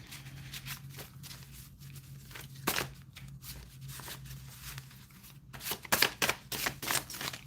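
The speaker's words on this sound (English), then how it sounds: "Trying to get a decent little shuffle going." A deck of cards riffles and shuffles for a card reading, soft rustling that builds into quicker, louder flicking bursts near the end, close up with a low background hum.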